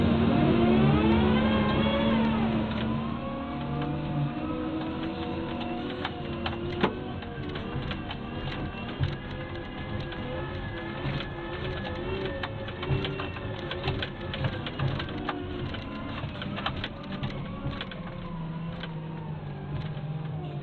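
A Cat 926M/930M/938M wheel loader works with its engine droning and shifting pitch, overlaid by whining hydraulics and frequent sharp clicks and knocks, heard from inside the cab without talking.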